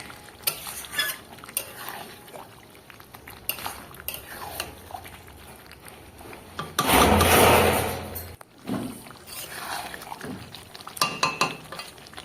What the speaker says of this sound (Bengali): মেটেগুলো দিয়ে আর একটু কষিয়ে নেব এখানে।